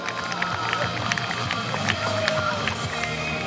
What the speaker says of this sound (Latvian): Un tā uzkrājam enerģiju, ovācijām, aplausiem, atbalstam